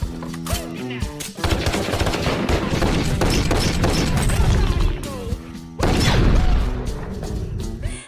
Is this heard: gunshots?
yes